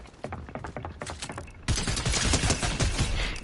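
Rapid gunfire from Fortnite on PS5 crackles in quick bursts, first sparse, scattered shots and then a dense, louder volley of overlapping reports.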